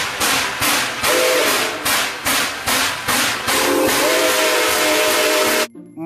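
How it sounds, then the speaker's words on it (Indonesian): A toy steam train chuffs in rhythmic hissing puffs under a steady steam whistle tone, loud and close, before it stops abruptly. "Kereta uap."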